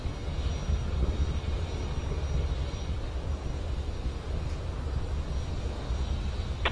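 The JCSAT-14 rocket, launched from Space Launch Complex 40 at Cape Canaveral, climbs through supersonic flight as a distant, continuous low rumbling roar with a dense, steady texture and no talking.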